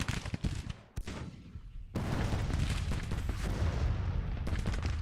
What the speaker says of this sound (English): Some artillery on my end is firing, but not much.